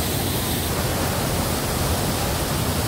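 Talay Falls, a waterfall in Laguna, gives a steady, loud broadband roar that runs unbroken throughout with no voices.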